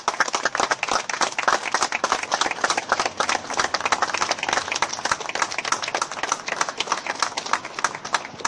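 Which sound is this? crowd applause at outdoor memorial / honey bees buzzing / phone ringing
crowd applause at outdoor memorial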